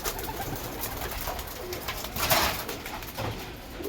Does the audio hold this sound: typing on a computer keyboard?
no